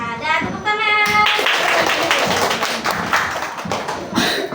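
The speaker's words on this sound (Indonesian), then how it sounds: "Iya, ada tepuk tangan." Hand clapping in a primary-school classroom, a burst of claps at the start followed by a dense, steady patter of applause that carries on to the end, with voices briefly heard at the outset.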